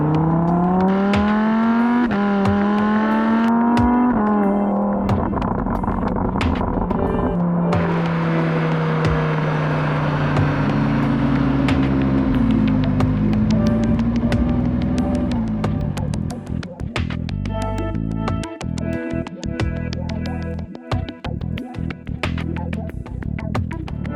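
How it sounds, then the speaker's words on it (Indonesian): A loud Lamborghini Huracán LP610-4 V10 engine revs and climbs through gears, its whine rising and dropping repeatedly, then settles into a rougher, clattering idle-like burble. "Suara V10-nya khas banget, gue suka banget tuh suara V10."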